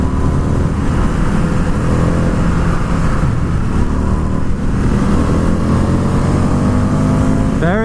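A 2020 Indian FTR 1200 motorcycle engine drones steadily while riding, a loud continuous rumble with a low throbbing pulse and wind noise, rising in pitch with a brief rev near the end.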